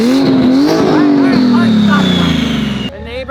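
A 2025 BMW M3 with a gutted interior revs hard, its loud engine note climbing and sweeping, with tire-like squeal tones, while excited voices shout over it before it cuts off near the end.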